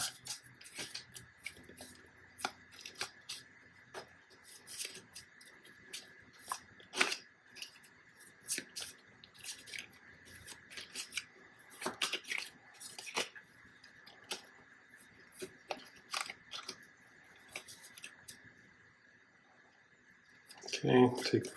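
Playing cards from the Automa deck of the Expeditions board game being shuffled by hand at a table: a long run of quiet, crisp clicks and riffling taps that ends with a louder rustle.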